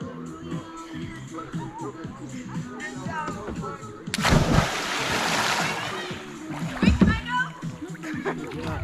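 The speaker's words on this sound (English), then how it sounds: "There, another big splash." Large splash of people dropping from a creek rope swing into the water, a loud broad burst followed by a second smaller splash, with river ambience and a voice talking before and around it.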